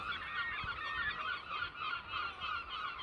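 A dense chorus of seabirds calling continuously on the Isle of May, many overlapping harsh cries at a steady distance with no voices.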